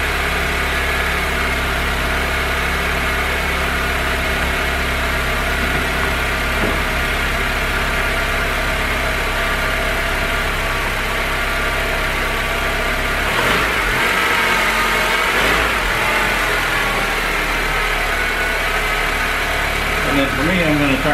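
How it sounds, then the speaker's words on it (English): A 2006 Honda Civic engine runs close by, holding a steady idle hum before revving up and settling back down near the end, loud and continuous. "first I'm going to rev it up and let you see."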